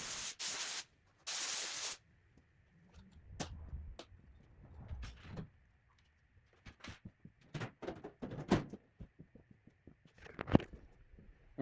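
A spray gun lays clear coat on a Honda Del Sol in two short, loud hissing bursts. Quiet clicks and handling noises follow in a near-silent shop.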